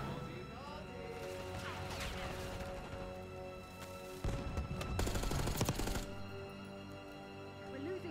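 Gunfire in Black Ops 6 with a heavier blast of a grenade burst in the middle, dense cracks over steady game noise, while a player talks.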